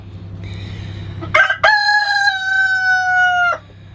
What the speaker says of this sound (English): here's all the roosters